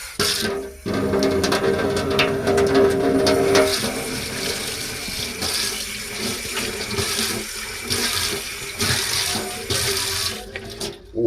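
Water gushes steadily to rinse tiles after grout and plaster residue is cleaned off with a chemical cleaner, a loud, continuous close splashing flow that briefly dips and then resumes, with no talking.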